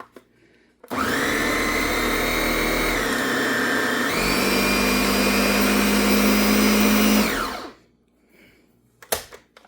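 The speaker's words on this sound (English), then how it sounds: "so I'm going to blend this" A blender whirs loudly through thick cheesecake batter with cream cheese, a steady high motor whine that shifts pitch as the load changes, running about seven seconds before stopping abruptly.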